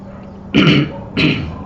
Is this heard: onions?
no